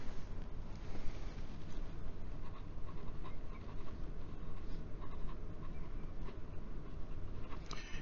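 Jinhao 997 fountain pen nib scratching across paper in reverse-writing strokes, a steady close dry scraping over constant broadband hiss.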